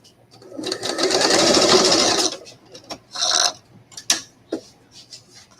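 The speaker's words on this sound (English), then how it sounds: "I'm going to stitch along there" A sewing machine stitches across doll fabric in one loud, steady run of about two seconds, then gives way to softer handling noises and short fabric rubs.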